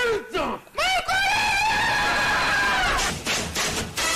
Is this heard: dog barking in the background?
no